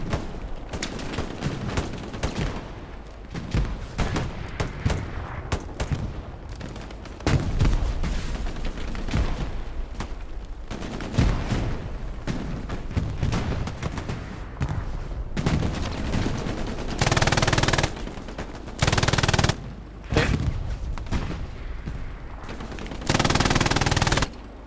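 An MG42 machine gun fires repeatedly in a competitive Omaha beach match of a video game, loud rapid bursts and sustained fusillades with distant gunfire and explosions mixed in, unbroken for most of the stretch.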